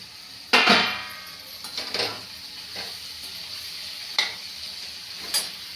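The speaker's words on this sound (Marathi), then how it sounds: "परत हलवून घेऊया." Soybean masala frying in a pan while being stirred, a soft sizzle punctuated by several loud metallic scrapes and knocks of a spoon against the pan.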